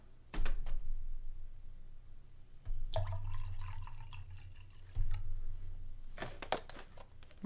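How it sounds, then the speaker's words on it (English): Water being poured into a coffee maker, a few separate splashes and trickles with pauses between, close by and fairly quiet, with clunks of handling. "I'm gonna put some water in it"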